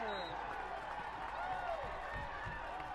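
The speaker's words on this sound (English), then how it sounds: "You heard right there on that sack. They got hyped after that sack." A high school football crowd on senior night roars steadily after a sack, a broad, constant wash of cheering and clapping heard from the stands with no pause across the moment.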